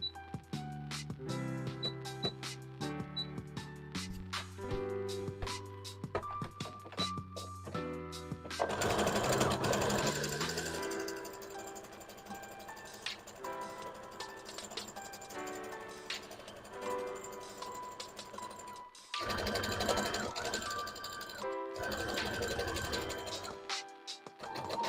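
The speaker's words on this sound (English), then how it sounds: "And then I'm gonna put a zigzag stitch on." Sewing machine running a zigzag stitch, with steady mechanical whirring and clatter in continuous stretches broken by short pauses, fairly close and moderately loud.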